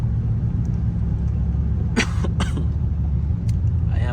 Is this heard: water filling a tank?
no